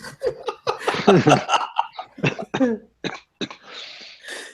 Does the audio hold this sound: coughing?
yes